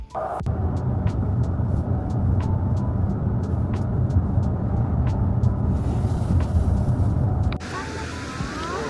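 A car drives through the downtown streets of Kitchener, Canada, with a loud, steady interior road rumble and engine drone, punctuated by a regular series of faint ticks, before the noise abruptly drops to a quieter hum.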